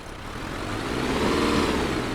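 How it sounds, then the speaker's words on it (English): A loud tractor engine in the Farming Simulator 25 game, droning steadily and swelling slightly as it revs, close and continuous, with no speech. "Ooh, I forgot this tractor was loud."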